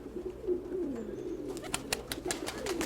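Pigeons at a feeding spot with grain give low, wavering coos through the first half, then a run of sharp clicks and flutters joins in, all close and steady with no voices.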